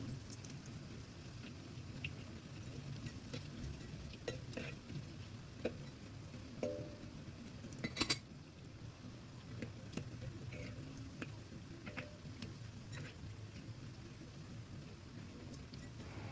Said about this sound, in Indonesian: Kita goreng bagian sisinya hingga sampai dengan kuning keemasan.